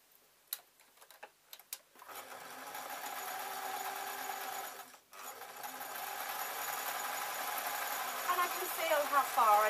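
Domestic sewing machine stitching a seam on a scarf top, running steadily and close up for most of the clip after a few light taps, with a short pause partway through.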